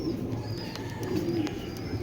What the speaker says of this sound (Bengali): চলুন কবুতর দুটো আগে একটু দেখাই আপনাদের